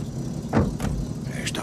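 A chauffeur-driven private car pulls up, a brief rising engine and tyre swell lasting about a second under a steady low rumble, with a voice talking over it.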